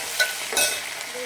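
Mustard seeds, fenugreek, fennel and curry leaves hit hot oil for a tempering, giving a brief crackling sizzle with a couple of sharper pops, close and fairly loud, with no talking.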